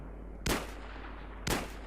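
Two loud, sharp Magnum gunshots about a second apart, each with a short ringing tail, fired in the video game Battlefield 3 over a steady low game background.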